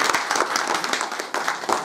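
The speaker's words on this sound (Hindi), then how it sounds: "जोरदार ताली बजाओ जयराम" Crowd applause at a public government event in Masroond, Himachal Pradesh, a brief burst of many hands clapping irregularly, fairly loud and close.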